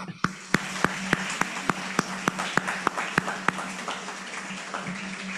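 Steady, evenly spaced single claps ring out at a virtual lecture, crisp and distinct over a quiet room hum, a sparse applause that thins and fades toward the end.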